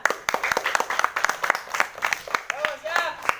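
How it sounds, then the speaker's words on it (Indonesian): Children clap together after a long jump at a school field event, a lively burst of scattered, uneven applause with a few voices calling out over it. "Mau dikasih tepuk tangan."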